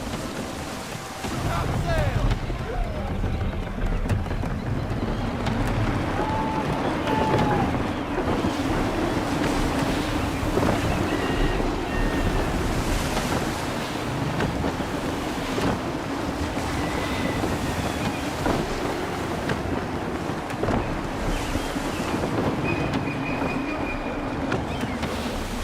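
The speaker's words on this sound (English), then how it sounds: "Wind looks to be shifting. Stay alert, Connor. Gusty winds can be difficult to manage." Gusty wind and waves at sea aboard a sailing ship in Assassin's Creed III, a continuous loud roar of wind and rushing water with faint creaks and occasional voices underneath.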